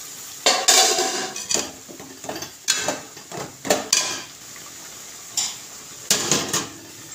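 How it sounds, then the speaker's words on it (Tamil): Drumstick masala curry being stirred in a pan, a metal spoon scraping and knocking against the pan in irregular bursts of clanks and scrapes over a faint sizzle, close and sharp. "இந்த மசாலா முருங்கைக்காய் எல்லாம் நல்லா மிக்ஸ் ஆகணும், நல்லா பரட்டி விட்டுருவோம்"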